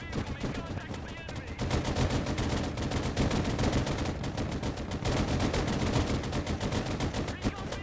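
Dense, rapid gunfire hits a recon vehicle in the RTS game Broken Arrow: continuous loud automatic bursts, close and relentless, with a short lull before the firing intensifies.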